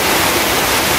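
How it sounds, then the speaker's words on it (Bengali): Heavy monsoon rain pouring down in a dense, loud, unbroken hiss, with no pauses or voices, filling the whole moment evenly. "অঝরে বৃষ্টি"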